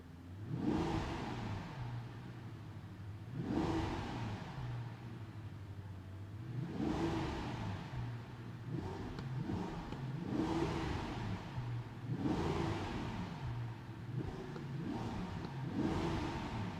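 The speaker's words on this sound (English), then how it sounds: "Let me just rev the car a few times for you" A 2024 Mercedes-Maybach S680's V12 engine revs up repeatedly, each rise swelling into a deep roar before dropping back to a rumbling idle, about six revs in a row.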